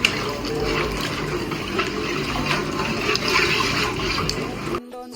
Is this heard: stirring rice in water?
yes